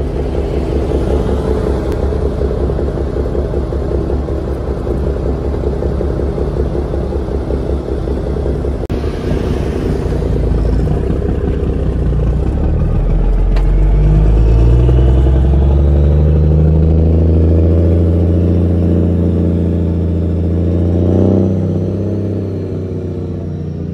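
A Kenworth truck engine idles on a farm, a steady deep rumble that swells into a louder revving drone midway before settling back, heard close and alone without talk.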